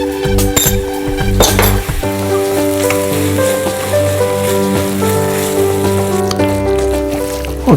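Oggarane tempering for gatti tovve sizzles loudly and steadily in a pan, a dense crackling hiss with occasional metallic clinks of a spoon against the pan, with no voices.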